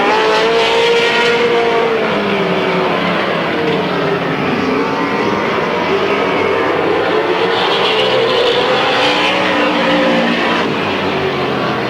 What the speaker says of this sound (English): John Sandquist and Danny Pettit out there racing.